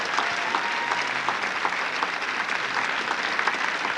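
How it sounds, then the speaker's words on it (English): A large audience claps in steady, dense applause that holds at an even level throughout, a continuous wash of many hands with no voices standing out. "I want you to expect this audience to give you a big round of applause and believe it will start right now."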